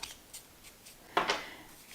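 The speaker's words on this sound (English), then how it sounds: "Sounds really nice when you're shuffling it." A deck of Green Glyphs cards being shuffled, a few soft papery riffles and flicks followed by one louder cascading riffle, close and quiet with no talk.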